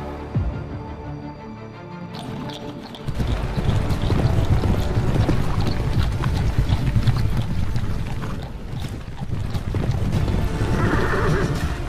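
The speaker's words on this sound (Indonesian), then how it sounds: "Suara kuda yang menggila dan teriakan pengendara kuda itu." Horses neigh and whinny loudly over galloping hoofbeats and rushing wind, a chaotic, continuous clamor.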